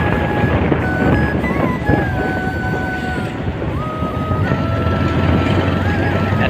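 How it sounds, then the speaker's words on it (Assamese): A motorbike ride on the way to Guwahati, a loud, constant engine drone mixed with heavy wind rushing over the microphone, with a faint passing horn tone. "বাইক চলাই আছে।"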